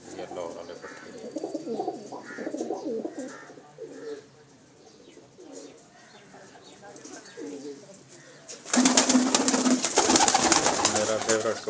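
Pet pigeons coo softly in repeated low, throaty phrases, fairly close, before a louder burst of rustling noise with calls takes over near the end.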